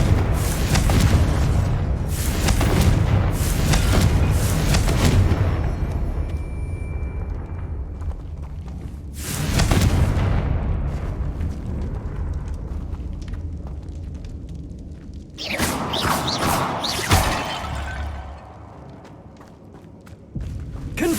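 Blasting Confringo spell explosions in Hogwarts Legacy, several deep booming blasts spaced seconds apart, each with a rumbling tail, amid softer thuds and movement sounds.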